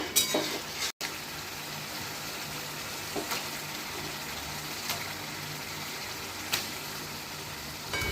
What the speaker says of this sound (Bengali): অল্প জল দিয়ে মশলাটাকে ভালো মতন কষিয়ে নেব।